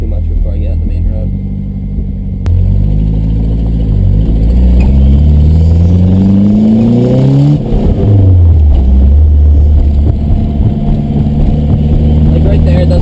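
Modified car engine pulling away in first gear onto a main road, a loud close rumble that climbs steadily in pitch as it revs, drops briefly at a shift, then rises again.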